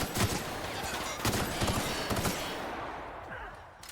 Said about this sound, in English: Did you not notice the gunshots outside?